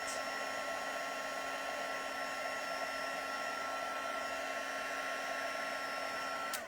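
A heat embossing tool blows hot air over a stamped card, a steady whirring fan hum with a faint whine that runs evenly and moderately close until it cuts off at the very end.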